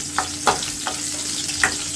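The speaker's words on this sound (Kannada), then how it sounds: "ಆಯಿಲ್ ಬಿಸಿ ಆದಮೇಲೆ ಇದಕ್ಕೆ ಇವಾಗ ತೊಗೊಂಡಿರೋ ಬೆಳ್ಳುಳ್ಳಿ ಹಾಕೋತೀನಿ ನಾನು" Garlic goes into hot oil with a soft, steady sizzle, broken by a few clicks and scrapes from a spoon stirring the pan, close and with no talk.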